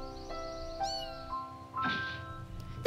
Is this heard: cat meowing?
yes